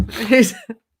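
A single close, loud sneeze bursts out, followed by a brief sniff or breath.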